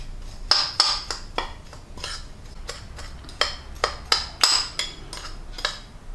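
Dry ingredients mixed in a bowl for a homemade apple pie, heard as a steady run of bright utensil clicks and scrapes against the bowl, about a dozen strokes in an irregular rhythm, close and fairly loud with no talking.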